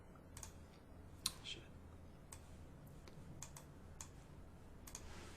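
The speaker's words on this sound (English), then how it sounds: "Actually, let me right click and select" Sparse, quiet clicks scattered over a low steady hum, a handful of sharp taps with one louder click near the start, like a computer mouse.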